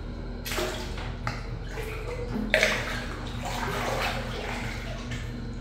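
Hotel shower head on a seventh floor, submerged in water and turned on, giving a steady close hiss and gurgle of rushing water with bubbling, a brief sharper splash midway.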